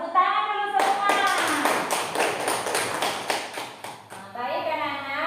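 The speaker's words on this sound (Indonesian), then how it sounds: "Tepuk tangan dulu semua." A class of schoolchildren clapping hands together in a classroom: a burst of quick, scattered claps for several seconds, with voices heard before and after.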